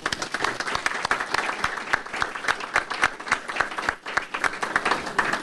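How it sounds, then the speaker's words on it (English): An indoor audience applauds car dealers at a village state-of-the-address event, a dense, steady burst of hand clapping close by with sharp individual claps standing out and no voices. "Please give them a round of applause."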